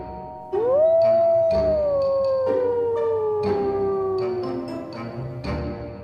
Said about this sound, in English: The answer is a wolf.